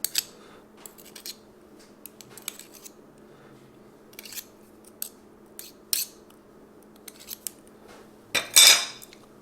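A utensil scrapes butter into a bowl in short, separate clicks and scrapes against the rim, with quiet pauses between, ending in one louder clattering scrape; no talking.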